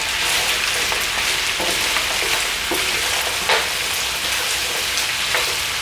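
Beef and lamb sear in a hot pan for a Chinese curry, a steady, loud sizzle with occasional clicks and scrapes as the meat is turned.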